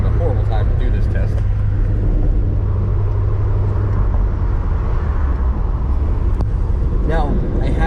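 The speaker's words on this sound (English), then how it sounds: "Rush hour traffic." Rush hour road traffic on a Friday afternoon heard from inside a moving vehicle, a constant loud low rumble of tires and engine with passing cars, and a voice talking over it.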